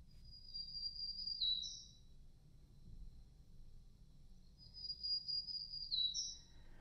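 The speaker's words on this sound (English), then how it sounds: "So black-throated green warbler." Black-throated green warbler sings a thin, high buzzy phrase twice, several seconds apart, faint against low steady background rumble.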